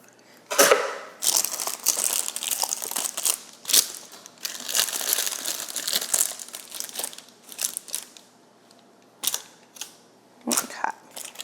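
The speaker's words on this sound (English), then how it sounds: "Get that parchment paper to lay a little flatter." Parchment paper being pressed flat in a kitchen crinkles and crackles in close, irregular bursts, some long and dense, others brief, with short quiet gaps between handlings.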